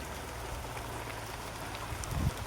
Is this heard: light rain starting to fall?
yes